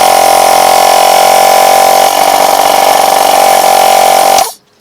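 A cheap 12V eBay air compressor running, a loud, harsh buzzing motor drone with a steady rattle, close up, holding constant for over four seconds before switching off abruptly.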